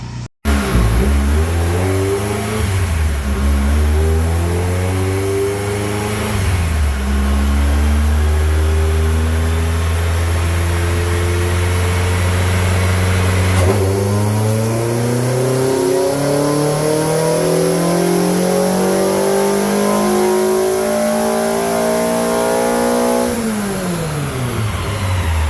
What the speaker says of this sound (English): For a long tube header and a full exhaust with just one muffler,